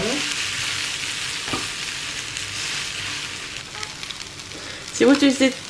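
Grated potato cake frying in a pan, a steady broad sizzle with a soft thump midway and a louder burst of scraping and spatter near the end as it is flipped.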